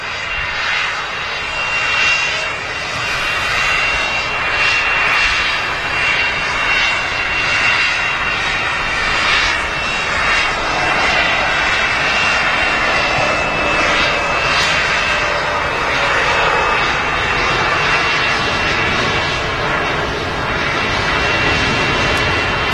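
Aircraft engines roar steadily and loudly at Manchester Airport, with no voices over the constant broadband drone.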